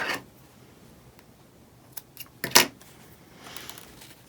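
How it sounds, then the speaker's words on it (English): Scissors snip sewing thread on a terry towel, a few short close clicks around the middle of an otherwise quiet stretch, with no talking. "And now I can trim my thread"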